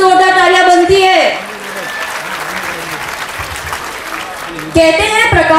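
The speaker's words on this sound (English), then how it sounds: "let us please give them a big round of applause to our chief guest" Applause for a chief guest at a school annual function, a dense burst of clapping from the crowd sitting between stretches of a speaker's amplified voice before and after.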